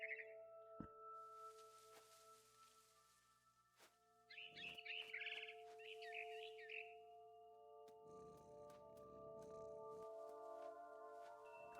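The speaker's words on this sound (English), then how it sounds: "Then I heard chirping outside my window. It was a barn swallow going back to her nest." A barn swallow in a video game gives a quick cluster of bright chirps over sustained in-game tones and a soft ambient hum.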